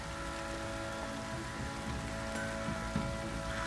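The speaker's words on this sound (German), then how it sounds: "Dunkel im Schloss, wenn es so schüttet" Heavy rain pours steadily in The Witcher 3: Wild Hunt, a dense, even hiss of drops on surfaces by a castle, with faint low tones underneath and no voices.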